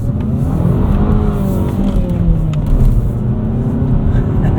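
A 2024 Mazda3 2.5 S with a manual gearbox revs loud and steady from inside the cabin, a sustained engine drone with shifting harmonics and no talk over it.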